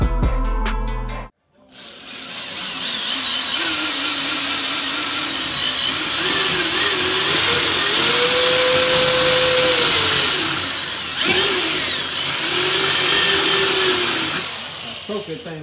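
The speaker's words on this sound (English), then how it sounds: "You drill them holes" A power drill whines loudly and steadily for several seconds, its pitch rising and dipping as it bores holes while modifying a Dodge Hellcat, after a brief burst of other noise.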